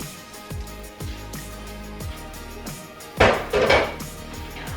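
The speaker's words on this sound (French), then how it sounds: "Je vais rajouter un tout petit peu d'eau." Water splashed into a hot pan of onions being softened without fat, bursting into a loud hissing sizzle after several clinks of utensils on cookware.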